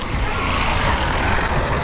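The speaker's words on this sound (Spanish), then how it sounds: "Era una moto." A motorcycle travels the rural Calambeo–Ambalá road, heard as a steady, fairly close rumble of engine and road noise that holds evenly without a clear rise or fade.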